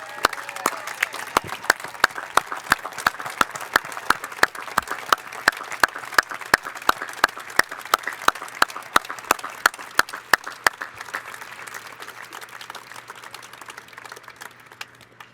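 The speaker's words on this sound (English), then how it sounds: "Would everybody give a round of applause" A dinner crowd at a baseball diamond event gives a round of applause, with scattered, distinct hand claps and some rhythmic clapping at a moderate distance, fading to a softer murmur near the end.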